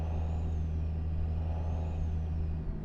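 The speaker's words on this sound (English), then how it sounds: "You can hear that turbo come off, kind of pulse it." A truck engine in American Truck Simulator holds a steady, loud low drone with a faint whistle-like tone above it, running continuously under acceleration with no talk.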